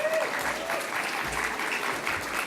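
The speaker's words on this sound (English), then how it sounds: "I want to just give a real loud clap for the Mars team right now" An audience claps loudly and continuously for the Mars team at an AR/VR meetup, a dense, even wash of applause filling the room throughout.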